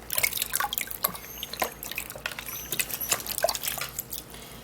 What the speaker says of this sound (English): what you do is to wash your plantain